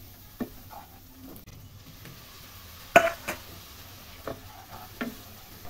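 Chili and cumin powders fry in oil in a pan for a rui fish and pumpkin curry, giving a faint sizzle broken by a few sharp spoon clicks and scrapes.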